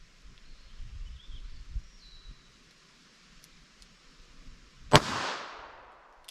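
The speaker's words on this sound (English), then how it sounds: "first up we have our 32 Smith & Wesson long through the LCR revolver." A .32 S&W Long round fired from an LCR revolver cracks once, sharp and loud, at about the five-second mark. A short decaying tail follows it, and faint outdoor ambience with light rustling comes before the shot.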